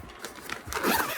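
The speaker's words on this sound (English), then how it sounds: "and it actually zips on both sides" A zipper runs along a fabric cover on a shoe rack, one steady pull that grows louder toward the end, close up, with no talking.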